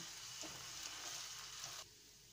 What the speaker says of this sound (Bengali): তো আমি এটা হালকা হাতে একটু ভেজে নেব।